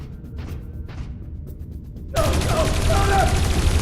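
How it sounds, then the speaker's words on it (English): A loud burst of sustained gunfire erupts suddenly after a quiet stretch in the video game Dreamfall Chapters, with rapid shots continuing steadily to the end of the clip while voices are heard. "Shoot to kill."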